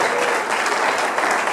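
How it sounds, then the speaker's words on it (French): Audience applause at a French-language youth event welcoming a speaker, a dense, steady wash of clapping hands throughout, fairly loud and close. "Monsieur Nathanaël Olokomba, sous vos acclamations."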